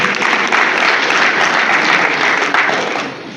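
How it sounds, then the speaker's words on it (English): A lecture hall audience claps for a university Vice Chancellor, loud and continuous many-handed applause filling the room, holding steady before tapering off slightly at the end. "Can you please clap to encourage the VC?"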